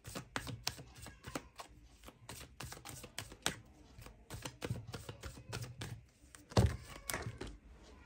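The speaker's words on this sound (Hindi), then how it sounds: "कुछ कार्ड्स गिरे हैं" Tarot cards falling and shuffling during a pick-a-card reading: a steady run of soft slaps and flicks close by, with one louder thump near the end and no speech.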